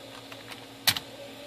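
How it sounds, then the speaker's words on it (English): A few light keystroke clicks on a computer keyboard, likely a 486 PC running Windows 95, with one sharper double tap standing out near the middle of a quiet background. "I'm not good at working on a keyboard."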